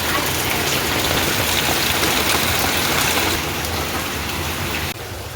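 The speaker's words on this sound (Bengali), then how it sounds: "বিরাট কি বৃষ্টি হচ্ছে গো" Heavy rain pours down in a dense, loud, continuous roar of drops hitting surfaces, steady throughout and easing slightly only at the very end.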